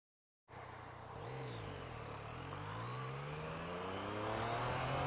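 A 2016 Yamaha MT-09 motorcycle pulls away after a sudden start, its engine note rising and shifting through gears in a steady, building roar that stays close and loud.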